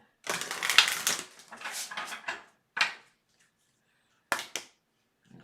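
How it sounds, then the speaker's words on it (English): Tarot cards are shuffled by hand in bursts of crisp riffling and slapping, several close rustling flurries separated by short silences. "One more shuffle."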